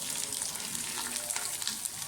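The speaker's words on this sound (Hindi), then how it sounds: "जीरे के साथ थोड़ा सा भून लें।" A tablespoon of whole cumin seeds frying in oil, a close steady crackle and sizzle with light stirring scrapes throughout, no voices.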